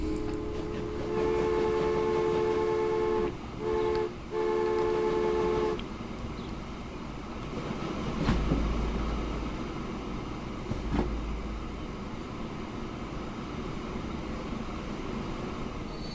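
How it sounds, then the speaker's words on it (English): Trains roll along tracks in the video game Transport Fever 2, with a sustained horn-like tone that cuts out twice before ending, then steady rumbling and two sharp clanks as the rail noise continues. "now there's two trains on the tracks."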